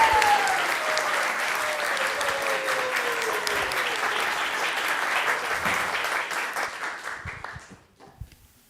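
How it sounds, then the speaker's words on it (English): An audience at a Krishna Katha gathering gives a sustained round of applause, thick and even for about seven seconds, then thinning out and fading to a few scattered claps at the end. "Okay, so one last round of applause."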